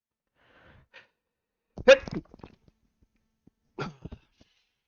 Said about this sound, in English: Just gonna sneeze to death.